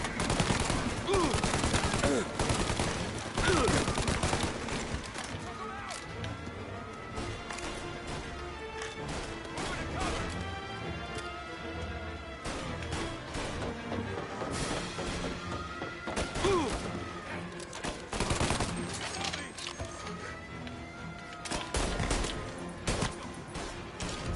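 Gunfire and an explosion in the video game Mafia, with dense, loud bursts of shots and heavy thuds scattered across the scene, mixed with game music and voices.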